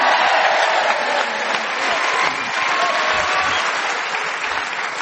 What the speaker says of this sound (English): you've certainly got bigger applause from this audience